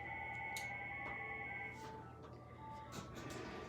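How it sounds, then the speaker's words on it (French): An indoor telephone rings with a sustained electronic tone for under two seconds, then stops, leaving faint room noise and scattered soft clicks. "Je vous reviens, téléphone sonne."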